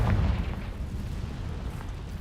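A Confringo blasting spell goes off in Hogwarts Legacy as a short, deep booming explosion with a low rumbling tail, loud and close, with no voices.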